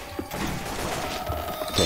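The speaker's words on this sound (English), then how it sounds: "Reloading." Weapon reloading in Left 4 Dead 2, heard as a quick run of mechanical clicks and clacks with a sharp knock near the start, set against busy game noise with no talk.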